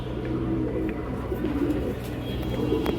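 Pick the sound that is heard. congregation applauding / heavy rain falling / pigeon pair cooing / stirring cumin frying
pigeon pair cooing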